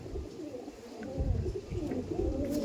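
Andhra Pradesh pigeons in a loft coo softly and continuously nearby, with low, rolling, burbling calls layered over one another.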